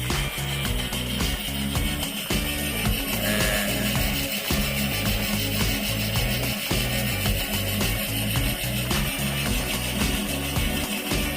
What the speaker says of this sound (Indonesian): langsung membubut rata